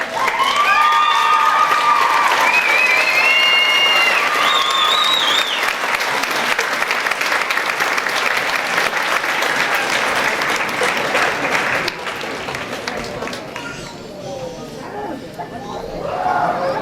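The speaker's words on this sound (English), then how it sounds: "so that we may applaud your effort" Long, loud, sustained applause from a crowd honouring the teaching staff at a 2007 high school graduation ceremony. Cheers and whoops rise over it early, and it thins out to scattered clapping and chatter near the end.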